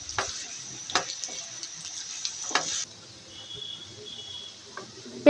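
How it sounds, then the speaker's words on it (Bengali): Chopped onion sizzles steadily in hot oil for a Bengali khichuri tempering, with a few sharp stirring clinks over the hiss. The frying is louder at first, then settles into a softer, quieter sizzle with no talking. "আমি বাগার দেওয়ার জন্য তেলের মধ্যে কিছুটা পেঁয়াজ কুচি দিয়ে দিয়েছি"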